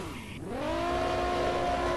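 Car drifting in Roblox Prodigy Drift, a close engine tone that dips then climbs and holds steady under a sustained tire squeal, loud and continuous.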